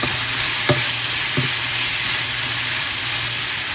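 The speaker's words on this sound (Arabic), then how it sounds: "استوى عندي الدجاج راح اضيف له فلفل اخضر وفلفل زينة، راح اتركه شوية يتحمر" Chicken frying with green and bell peppers gives a steady, dense sizzle and hiss, with two brief knocks of a utensil near the start.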